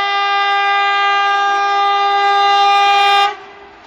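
A twin EPM electric train's horn blares loud and steady with clear harmonic tones for about three seconds, then cuts off abruptly, leaving the train's running noise and rail rumble.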